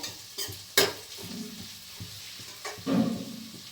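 Onions fry in a pan for a chicken fry, with a soft sizzle under several close scraping stirs and clinks of a spoon.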